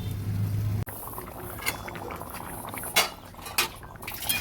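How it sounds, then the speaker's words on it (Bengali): Chickpeas and potatoes boil in a pot for a vegetarian kabuli chana paneer dish, giving a soft, steady bubbling hiss broken by a few brief clinks and pops. "ছোলা আলুগুলো ফুটে উঠেছে, সুন্দর সেদ্ধ হয়ে গেছে।"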